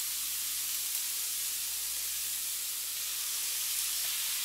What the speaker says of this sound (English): Try to brown up the white onions.